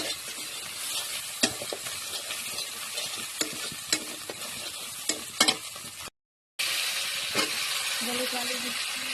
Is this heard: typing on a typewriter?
no